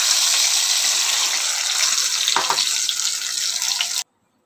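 Water poured into a hot pan of mustard paste and oil for a raw hilsa fish curry, a steady loud gushing splash lasting about four seconds, then cutting off abruptly.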